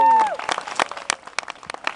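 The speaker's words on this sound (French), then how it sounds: "On les applaudit bien fort." Loud applause greets two jury members at a wedding parody of The Voice. It opens under a whistle-like tone and continues as scattered sharp claps with crowd noise.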